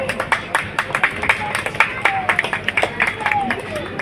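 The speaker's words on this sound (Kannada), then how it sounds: "ಚಪ್ಪಾಳೆ ಕೊಡ್ತಾರೆ ಸರ್." An audience at a Ganesh Puja dance competition in Karnataka claps for the third prize winner, scattered uneven handclaps mixed with crowd murmur and nearby voices.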